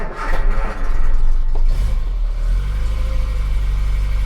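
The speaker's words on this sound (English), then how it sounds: "We have ignition, bit of choke. Let's see if he'll start." A car engine with the choke pulled cranks briefly with a scraping starter whir, then catches and settles into a loud, steady low idle rumble close by.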